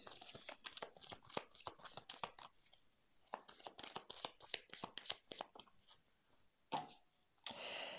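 Tarot cards riffled and shuffled by hand for a card reading, a close, rapid run of crisp flicking bursts with short pauses between rounds, quiet and with no talk.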